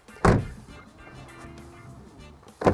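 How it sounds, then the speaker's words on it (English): The seatbelt butler arm in a Mercedes CLE extends with a faint, soft motor whir inside the cabin, framed by two sharp thunks at the start and end. "There's a little seatbelt butler which hands you your seatbelt when you get in the car."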